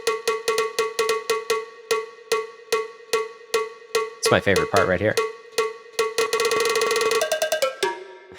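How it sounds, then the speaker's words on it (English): A loud, repeated cowbell hits steadily through a music production, struck in a brisk regular rhythm, with a burst of dense mixed music midway and sustained tones toward the end. A voice speaks briefly over it. "add a loud-ass cowbell"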